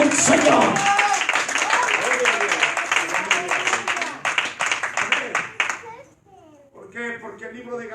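A church congregation claps in praise, steady scattered hand claps building for several seconds before tapering off, with a preacher's voice and a voice heard over and after the clapping.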